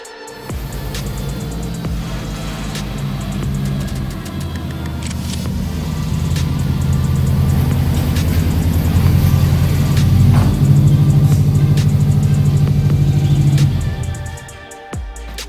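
A Subaru Impreza WRX bugeye wagon with a 2.0 engine idles while warming up, a steady low rumble that swells slightly and holds before cutting off near the end, close and loud.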